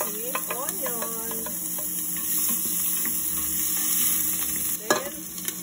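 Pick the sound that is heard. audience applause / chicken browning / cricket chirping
chicken browning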